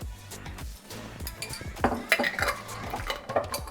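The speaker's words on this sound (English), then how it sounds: "get a non-grease frying pan, put a teaspoon of coconut oil in" A non-grease frying pan clinks and scrapes on a stove as a teaspoon of coconut oil goes in, with close metallic knocks and clatter over a low background hum, no voices.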